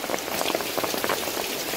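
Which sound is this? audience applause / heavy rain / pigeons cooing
heavy rain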